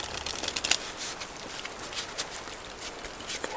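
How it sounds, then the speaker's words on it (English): A deck of playing cards is shuffled up close at a solitaire table, with quick riffling flutters and soft snaps in short irregular bursts over a quiet background. "So 4 shuffles."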